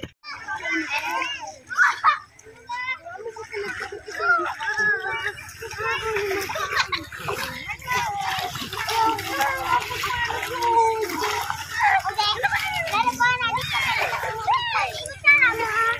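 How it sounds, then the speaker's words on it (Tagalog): Many children bathe and play at the seaside on a day of big waves, with splashing water mixed into a constant chatter of kids' shouts and talk nearby, and an adult voice speaking over it. "Daming mga bata na naliligo guys."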